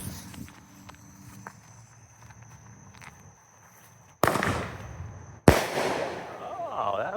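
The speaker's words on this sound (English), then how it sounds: "Atlas Aerial from TNT Fireworks." Two sharp, loud bursts from an Atlas Aerial single-shot consumer firework by TNT Fireworks, separated by about a second and each trailing into crackle and rumble. Quieter outdoor rustling and footsteps come before the blasts.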